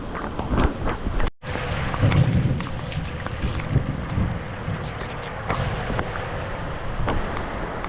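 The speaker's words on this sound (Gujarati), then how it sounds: "મસ્ત વરસાદ પડે છે" Heavy summer rain falls with gusting wind, a dense continuous wash of noise with buffeting and scattered sharp hits, one brief dropout, and no one speaking.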